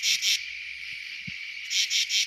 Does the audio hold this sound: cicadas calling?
yes